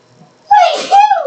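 A single loud, close human sneeze indoors during a tabletop role-playing game session, a short intake followed by a sharp burst, with faint background talk.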